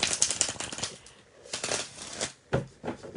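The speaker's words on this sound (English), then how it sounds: "Oh, that was a beautiful shuffle." Tarot cards are riffled and shuffled by hand in a few quick bursts of crisp flapping and snapping with short pauses between, close and clear, with no talking over them.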